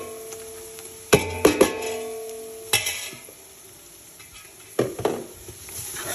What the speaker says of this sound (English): It's gonna sizzle and watch out, smoke gonna come up.